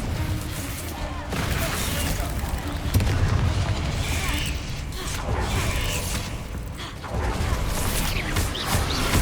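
Booming spell blasts in the Hogwarts Legacy video game, repeated explosive bursts in quick succession amid battle noise, with a voice casting incantations over them.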